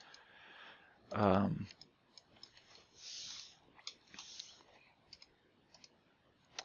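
Computer mouse clicks while setting up an SMS automation in software: a few faint, sharp clicks scattered over several seconds, with a brief burst of voice near the start.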